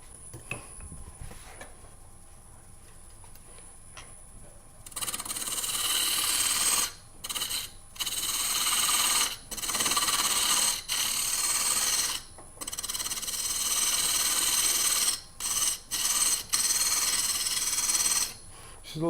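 A small 1/16-inch parting tool cuts into a turning wooden box blank on a lathe, a loud hissing, rasping scrape in repeated passes of a few seconds each, broken by short pauses, after a quiet stretch of motor hum.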